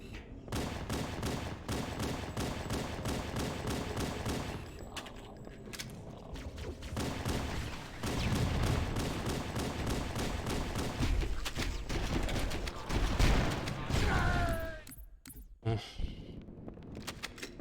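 Rapid gunfire from Halo rattles almost nonstop, with dense automatic bursts and heavy thumps that run loud throughout and drop out briefly near the end.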